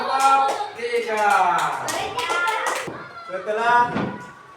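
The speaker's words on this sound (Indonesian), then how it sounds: "Tepuk tangan untuk kelompok" Schoolchildren in a classroom clap for group 3, with brief claps sounding amid lively children's voices and talk that dominate most of the moment.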